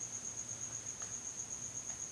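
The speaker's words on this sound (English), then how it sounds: "It's so quiet I can hear crickets." Cricket chirping played as a comedic sound effect, a faint steady high-pitched trill with a regular pulsing rhythm running unbroken throughout, with no voices over it.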